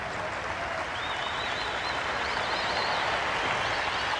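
A cricket crowd at Kingsmead in Durban applauds steadily for several seconds at a South Africa versus England Test match in 1995, a broad even wash of clapping with faint whistles rising above it.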